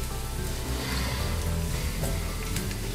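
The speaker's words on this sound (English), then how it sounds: "Saute those until they're just translucent" Onions sauté in melted butter in a pan with a dense, continuous sizzle and crackle, close and steady throughout with a low hum beneath.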